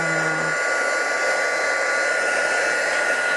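A hair dryer blows steadily over freshly stamped card ink, a loud, continuous close-up whoosh of air with an even motor whine and no pauses.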